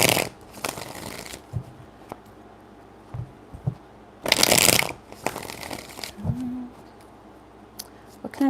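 Tarot cards are shuffled in several short riffling bursts separated by quieter pauses, with one long loud riffle in the middle, close and crisp.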